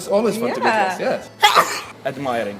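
A single sharp sneeze bursts out midway through casual conversation between travelers, loud and close, with voices talking before and after it.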